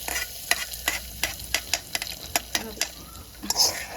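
A spoon stirs a curry frying in a pan in a quick series of sharp scrapes and taps over a faint sizzle, recorded close.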